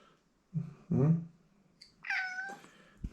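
A cat meows twice in close succession, followed by a higher, drawn-out mew, close to the microphone in a quiet indoor room with a soft thump at the end.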